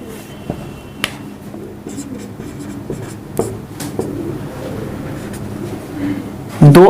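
Handwriting during a Hindi-language maths lesson on ratio and proportion: steady scratching strokes of pen or chalk with scattered taps, close and fairly loud, ending in a louder burst.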